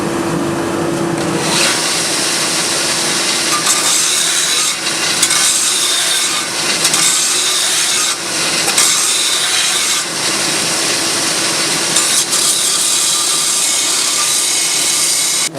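A grinding or sanding tool scours steel tubing close up to remove rust and round off its corners, a loud, continuous abrasive rasp with slight dips in intensity running throughout without talk.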